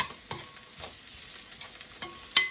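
Garlic sautéing in a small amount of cooking oil, a faint, steady sizzle broken by a few sharp scrapes and clinks of a utensil stirring in the pan, with no voices.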